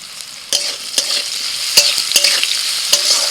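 Green tomatoes fry in oil with crackling mustard seeds, giving a steady close sizzle broken by several sharp scrapes and clicks of a spoon stirring the pan; no one speaks.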